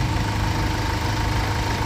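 A 2.5-litre diesel engine of a Hyundai H1 van idles up close with a low, even rumble and constant mechanical hum, and no voices.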